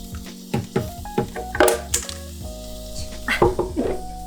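Sauce for pambazos sizzles as it is strained into a frying pan over medium heat, a steady hiss broken by repeated clinks and scrapes of a strainer and utensil against the pan.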